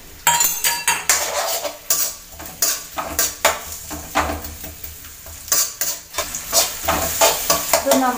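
Sliced onions frying in a spoonful or two of oil in a pan for garlic chicken fry, with a continuous sizzle and rapid, rhythmic clinks and scrapes of a spoon stirring against metal, close and loud.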